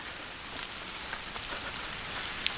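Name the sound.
rain falling on a hiking trail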